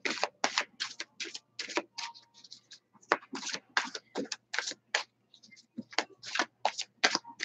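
Tarot cards riffled and shuffled by hand in quick crisp bursts, each flurry separated by short pauses, close and fairly quiet with no talking.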